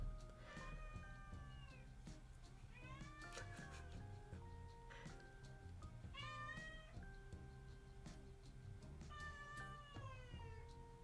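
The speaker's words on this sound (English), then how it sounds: "Little grumpy kitten." A grumpy kitten meows repeatedly, a series of clear, rising and falling whiny calls close to the microphone, some drawn out into complaining cries, heard alone without talk.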